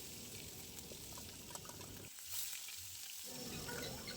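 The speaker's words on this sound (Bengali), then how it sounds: "তারপর দিয়ে দিচ্ছি পেঁয়াজ বাটাটা" Onion paste frying in hot mustard oil gives a steady, close sizzle that drops off sharply for about a second and then surges back louder, as if freshly stirred. Nobody speaks.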